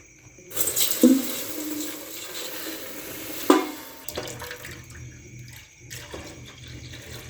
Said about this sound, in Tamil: பால் வந்து இப்போ ஃபுல்லாக ஊற்றுறோம்